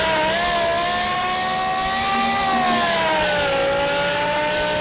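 A car's engine screams at high, steady revs as its wheels spin on dirt in Car Mechanic Simulator 2021, a loud, sustained whine that sags slightly in pitch toward the end.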